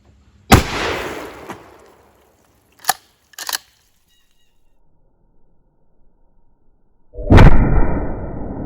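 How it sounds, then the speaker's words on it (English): A Remington 870 youth 20 gauge shotgun fires a single loud, sharp blast, followed by two brief clicks or pumps and another loud burst near the end, with no talking. "Remington 870 youth model, 20 gauge, meat target."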